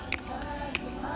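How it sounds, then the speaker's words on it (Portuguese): A young conductor snaps his fingers, producing a few sharp, close clicks spaced unevenly over about a second, with faint background voices. "Começo com os estalos"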